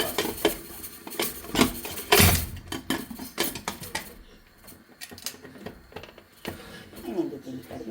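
Metal clatter and clinks from a pressure cooker lid being handled and locked shut over beef roast, a loud burst of clanking followed by quieter scraping and knocks.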